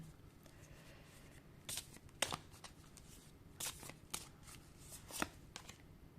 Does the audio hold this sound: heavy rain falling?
no